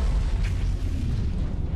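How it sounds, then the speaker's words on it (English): A huge rumbling explosion during the Fortnite x Disney D23 live event, a deep sustained boom with a rolling low roar that stays loud throughout, with no talk over it. "Extra big ass explosion"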